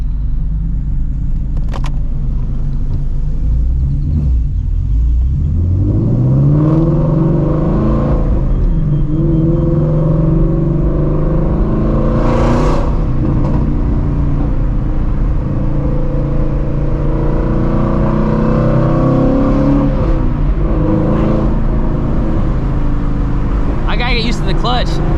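Shelby GT350 Mustang engine rumbling and revving as the car accelerates, a deep close-up growl rising in pitch through gears with repeated climbs and drops, loud and continuous; a voice talks over it at times.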